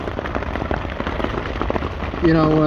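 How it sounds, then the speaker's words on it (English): Heavy rain drums steadily on a tarp close by, a dense spattering hiss that continues throughout, with a tonal hum joining at the end. "It's not just a little bit of rain either. It's raining hard."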